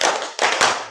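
A classroom group claps in three quick, crisp bursts, the first and last noticeably louder, as part of a counting clap pattern.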